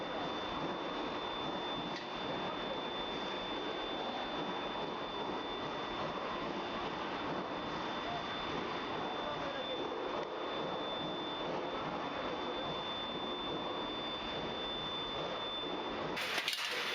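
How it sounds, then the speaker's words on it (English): Heated steel runs through a skew rolling mill that forms it into grinding balls, giving a loud, steady industrial roar with a faint high whine that holds unbroken throughout. "Once the steel is sufficiently heated, it is transferred to the skew rolling miller."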